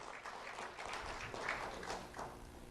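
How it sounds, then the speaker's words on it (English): At a Lee County Sheriff's Office recognition event, an audience applauds a student with a faint, steady patter of many hands clapping, distant and low in level. "Round of applause for Shamir Chino."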